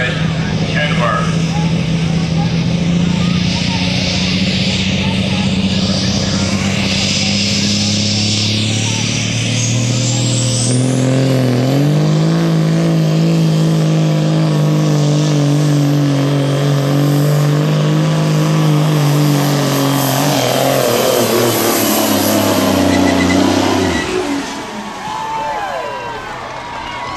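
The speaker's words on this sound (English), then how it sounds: "KT600, Kenworth." A Kenworth KT600 big rig roars loud and close through a full truck pull at a dirt track, its deep engine drone holding steady then climbing in pitch before cutting off near the end, with an announcer talking over it.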